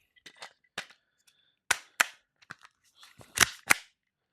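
An AAP-01C HPA airsoft pistol fires BBs on semi-automatic: about ten sharp, close cracks in an uneven rhythm, some in quick pairs, with short silent gaps between them.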